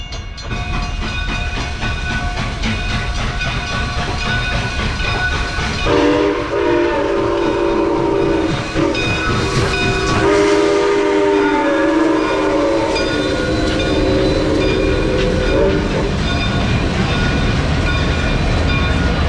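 An old locomotive rolls through a town with rumbling rail noise and a long, loud horn blast held for several seconds, then continuing wheel clatter.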